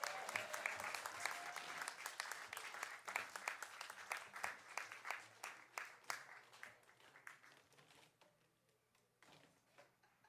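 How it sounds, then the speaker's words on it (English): Audience applause at a comedy show at Holocene, dense rapid clapping that stays loud for several seconds, then thins into scattered claps and fades toward the end. "Round of applause for Christina for being vulnerable with me."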